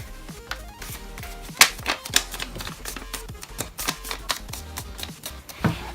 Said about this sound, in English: you're going to fold this corner up here up to that corner